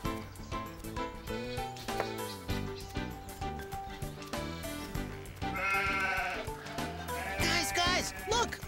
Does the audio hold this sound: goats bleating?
yes